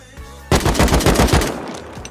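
AK rifle firing in the survival video game Rust, a loud close burst of roughly ten rapid automatic shots that starts abruptly and fades into a short decaying tail.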